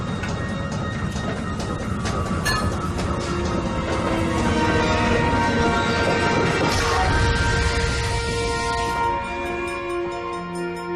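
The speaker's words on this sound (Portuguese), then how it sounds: "está sendo trazida a São Paulo pelo funicular, um trem puxado por cabos" A cable-hauled funicular freight train carrying flour cargo toward São Paulo runs steadily for about eleven seconds, a dense rumbling and clattering of rail cars with metallic screeches, loud and continuous throughout.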